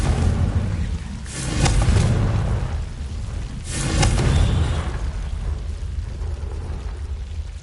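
Two deep booming blasts from a Confringo blasting spell in a game, each swelling and fading over a couple of seconds, loud and close with rumbling tails.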